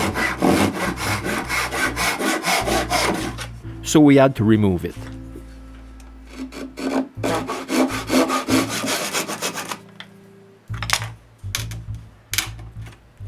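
Rhythmic hand sawing through a wooden chair rung, steady strokes for several seconds, then a pause with a spoken line and a few more scraping strokes.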